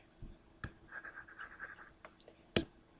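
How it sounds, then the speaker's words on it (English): A marker or eraser rubs an x off a classroom board during a math lesson, a short run of soft scratchy strokes between a couple of sharper knocks, close and fairly quiet. "I'm going to erase the x"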